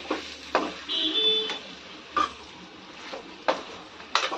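Brinjal frying in a pan with chilli masala and turmeric for a stuffed eggplant curry, with soft sizzling and a few sharp scraping stirs of a utensil against the pan at intervals, close and moderately quiet.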